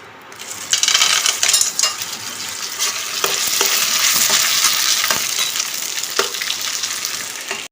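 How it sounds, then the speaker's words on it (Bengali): Papad fries in hot oil with a loud, close, crackling sizzle that swells after the first second and stays dense, broken by clinking and scraping from utensils, with no speech. "তার জন্য একটু পাঁপড় ভেজে নিই"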